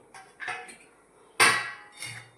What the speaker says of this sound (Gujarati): જો આ રોટલો વઘાર્યો હલાવી દો બધો